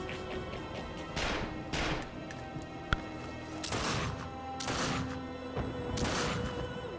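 Gunshots in The Darkness 2 ring out as a handful of loud, spaced cracks with echoing tails, one sharp impact between them, over a low ambient backdrop with no talk.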